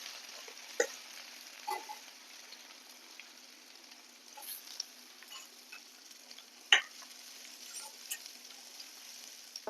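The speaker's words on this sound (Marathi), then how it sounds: "ह्या राहिलेल्या तेलातच आपण इथं कांदा आहे तो परतायला टाकणार आहे" Onion frying in oil left over from frying bombil fish makes a faint, steady sizzle close by, with occasional soft stirring clicks and scrapes in the pan.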